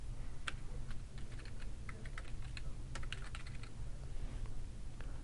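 Quick, irregular keystrokes clatter on a computer keyboard while a question is entered, close and moderately quiet over a faint steady hum.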